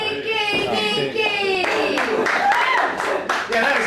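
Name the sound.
applause for performer Dangerous Dinky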